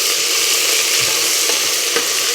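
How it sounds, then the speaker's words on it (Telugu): Ginger garlic paste fries in a pan with a dense, close hiss and a couple of faint soft knocks as it is cooked. "ఇప్పుడు ఇందులో వన్ టేబుల్ స్పూన్ అల్లం వెల్లుల్లి పేస్ట్ వేస్తున్నానండి ఇది కాస్త వేయించుకోవాలి"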